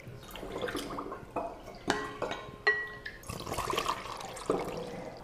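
Homemade fermented strawberry soda juice poured carefully through a funnel into a bottle, with intermittent splashing, gurgling and dripping bursts at close range, no talking.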